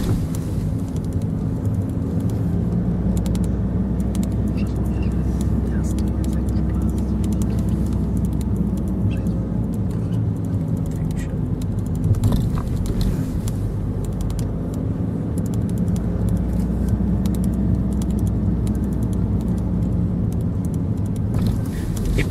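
A car drives through the streets of Wrocław on an exam route, its engine and tyre noise a steady, close, continuous rumble with faint creaks and small mechanical knocks throughout.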